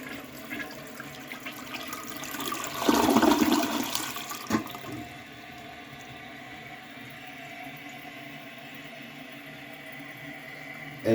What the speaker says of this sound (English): it delivers a pretty powerful and nice flush